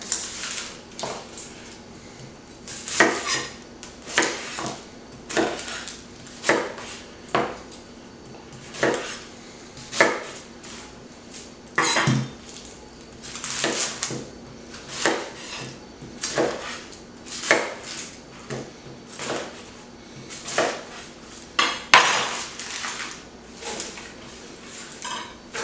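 Carrots chopped into large chunks on a board for making stock, a long run of sharp, close knife knocks in an irregular rhythm, fairly loud with quiet kitchen room tone between strokes.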